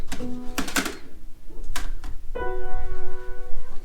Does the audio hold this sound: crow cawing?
no